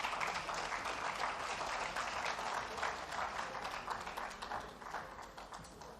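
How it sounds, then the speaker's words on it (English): Audience applause at a signing ceremony in Lagos, a broad wash of many hands clapping that runs continuously and fades slightly toward the end. "let's give them a big round of applause again"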